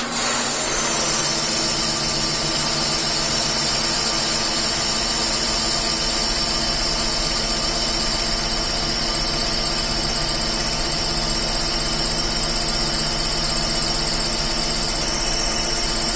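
A K&T 6-inch universal lathe with a 3-horsepower motor spins up and runs steadily, giving a loud, continuous machine drone with a high, sustained whine that holds for the whole stretch.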